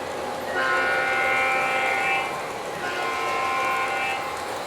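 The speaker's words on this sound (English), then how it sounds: "Here comes the train." A model train runs on a snowy village layout, its horn sounding in two drawn-out blasts over a steady rolling rumble, close and moderately loud.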